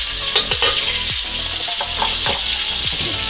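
Garlic sautéing in oil in a pan for spicy tuna fried rice crackles loudly with a constant hiss, while a utensil scrapes and stirs in a rough repeated rhythm close by.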